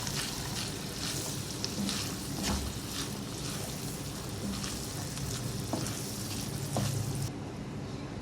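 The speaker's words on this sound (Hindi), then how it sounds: "प्याज डाल के मैंने इसको मिक्स कर दिया" Chopped onions and green chillies fry in a pan with a steady, faint sizzle and occasional soft stirring scrapes.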